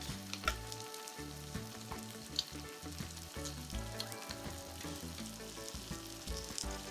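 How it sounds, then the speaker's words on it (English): Tomato sauce seasoned with salt, sugar and basil hits a hot pan for shakshuka, crackling and sizzling steadily and fairly loud throughout with bursts of bubbling. "So now I'm just going to go in with the tomato sauce to drop it on."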